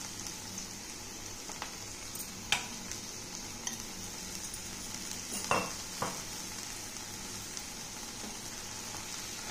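Okra curry sizzles in a pan as ground masala is stirred through, a steady soft frying hiss with a few sharp scrapes and clinks of the spoon near the pan.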